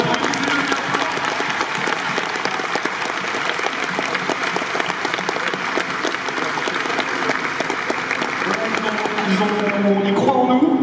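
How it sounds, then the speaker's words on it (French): Loud, dense applause from a convention crowd fills the whole stretch at a French fan event celebrating a web series anniversary, steady throughout with some cheering swelling near the end. "je veux quand même qu'on applaudisse bien fort le distributeur du film, Apollo"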